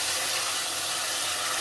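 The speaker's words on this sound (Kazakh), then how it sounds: "керек мөлшердегі суды құямын." Water pours into a hot pot of frying pilaf ingredients, producing a dense, loud, steady hiss throughout.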